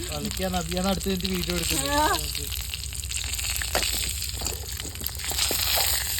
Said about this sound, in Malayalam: കടുക് പൊട്ടലും കറിവേപ്പിലും ഇടലും ഭയങ്കര പേടിയാണ്.